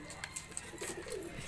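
Soft pigeon coos come through faintly against a quiet background at a pigeon loft, with a few brief bird calls scattered through.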